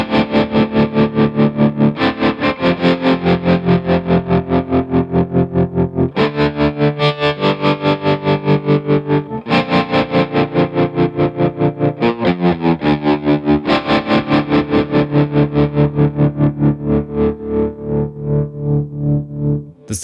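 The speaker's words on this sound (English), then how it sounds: "This is the slowest speed on the lower position of the toggle switch, amplitude still cranked." At the slowest speed on the lower toggle position with amplitude cranked, a Tremuntana tremolo pedal turns distorted electric guitar chords into a steady, deep throbbing pulse, loud and sustained, slowing and fading at the very end.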